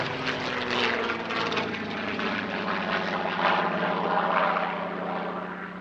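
A Douglas C-47 propeller transport flies past at the Air Legend airshow, its radial engines giving a steady, loud throbbing drone that swells slightly mid-pass, with no voices over it.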